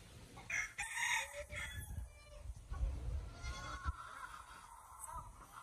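Chickens and a rooster on a rural house-building property in the Philippines, a rooster crowing loudly nearby over scattered clucking, with other farm sounds in the background.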